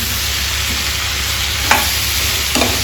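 Tomatoes frying in a pan for a Telugu flat-bean and tomato curry: a steady sizzle throughout, with two brief stirring scrapes near the end and no talking.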